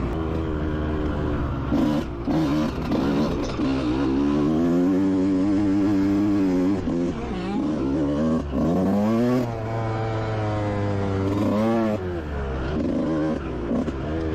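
A motocross bike rolls slowly around a hilly dirt track, its engine droning steadily near and loud with repeated rising and falling revs as the throttle opens and closes, with no talking.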